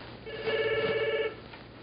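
A telephone bell rings in one sustained electronic burst lasting under a second, fairly loud against a quiet room background, with no speech over it.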